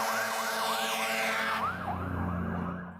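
A toy fire truck's electronic siren wails in a fast, repeating up-and-down warble, loud and close, with no talking.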